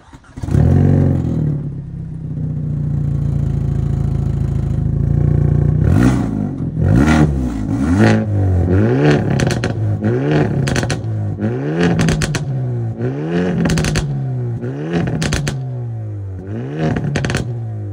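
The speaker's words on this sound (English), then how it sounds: "the exhaust makes an awesome noise" 2024 Hyundai i30 Sedan N exhaust while driving: a steady low drone, then repeated loud revs rising and falling in quick bursts with crackling pops between them, close and forceful.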